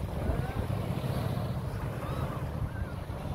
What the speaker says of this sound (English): Nice breeze coming off there.